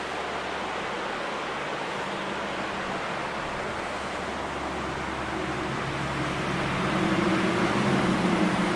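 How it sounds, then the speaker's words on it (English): The Ausable River rushing below a steep drop-off in the Adirondacks, heard as a constant broadband roar of water from a distance that swells a little louder near the end. "And that's the Ausable River."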